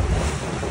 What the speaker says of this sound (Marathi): पुन्हा एक वेळ बोट तिच्या जलप्रपाताकडे चाललेली आहे